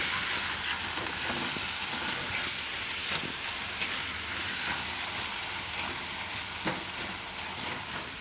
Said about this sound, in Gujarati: તો થોડીક વાર લોટ આ રીતે મિક્સ કરીને શેકી લેવાનો.